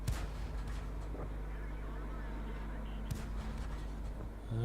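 In World of Tanks, an artillery shell fires with a sharp, fairly distant report. A second, fainter report follows over a constant low engine rumble.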